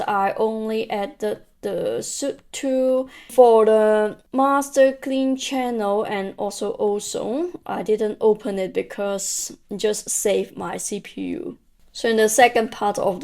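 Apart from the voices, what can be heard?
No distinct noise like a dog, phone or traffic.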